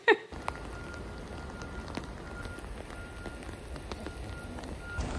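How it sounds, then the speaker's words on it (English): Rain falls outdoors in a steady, soft patter on wet ground with scattered drops, close and fairly faint, after one brief knock at the start. "but it's raining."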